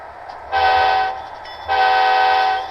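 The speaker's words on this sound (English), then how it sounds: "let's hear my beautiful Via Rail engine start up" A model train's simulated Via Rail diesel locomotive engine rumbles to life, its loud harmonic drone starting, dropping off briefly, then returning strong and steady.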